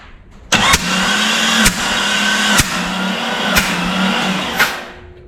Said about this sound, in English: Let's give this motor a spin.